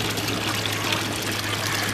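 Waste water trickling and pouring from a drain into a hospital water treatment chamber, a continuous close, even flow of running liquid with a low steady hum beneath and no speech.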